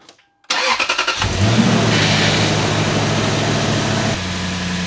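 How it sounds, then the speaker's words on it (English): A Toyota 4Runner truck engine cranks with a rapid stutter, catches and then settles into a steady, loud idle close by. "we're going to start the truck and just go side to side again"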